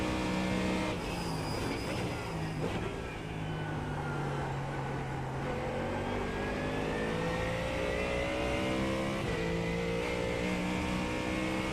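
GT3 and GT4 race cars roaring around the Nürburgring in an endurance racing game, sustained engine drone with rising and falling pitch as revs climb and gears shift, loud and continuous with no talk.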